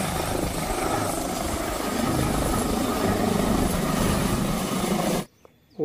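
Steady whirring toy helicopter rotor noise, loud and continuous, cutting off abruptly near the end.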